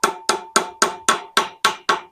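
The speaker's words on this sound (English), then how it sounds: "then hammer it opposite" Eight evenly spaced hammer blows drive an axle seal into the rear axle of a 1945 International K3 truck, sharp metallic strikes with ringing decay, close and loud.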